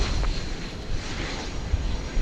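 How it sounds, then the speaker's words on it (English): Steady broadband roar of an American Airlines Airbus A321 jet arriving at DFW Airport, a continuous engine rumble without gaps, fairly loud and unaccompanied by speech. "Here's American Airlines arriving from Portland, Oregon, in Airbus A321, American Flight 2655."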